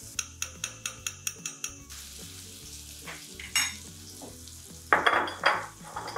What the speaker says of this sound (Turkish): Yavaşça karıştırıyorum.